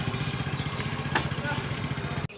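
A motorcycle engine idles nearby with a steady low, pulsing rumble throughout, cutting off abruptly just before the end.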